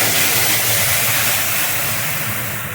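Soaked fish slipped into hot mustard oil tempered with panch phoron and dried red chillies for a Bengali fish dish, giving a loud, close, continuous hissing sizzle that fades slightly over a few seconds.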